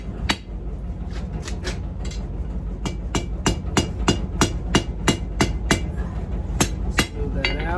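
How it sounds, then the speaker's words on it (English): Sharp, ringing hammer strikes on metal over an anvil while riveting tongs, evenly spaced in a steady rhythm, loud and close over a low hum. "I don't want to hammer this all the way down just yet"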